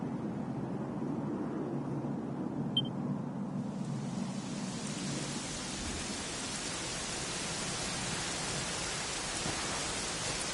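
Steady rain falls in a video game, a soft, even hiss that swells and holds without a break.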